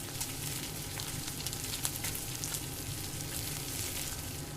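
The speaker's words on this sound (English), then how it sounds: "Now we watch the bacon sizzle." Steady crackling sizzle of bacon frying in a VR video game, soft and continuous with small pops scattered throughout.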